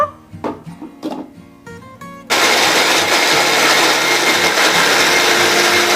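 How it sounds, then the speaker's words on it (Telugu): A kitchen mixer grinder blending papaya juice with water: a few knocks and clatters, then the motor starts abruptly and runs at a loud, steady whirring roar to the end. "ఇప్పుడు మనమైతే మిక్సీ పట్టుకున్నాము"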